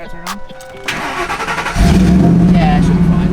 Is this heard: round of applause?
no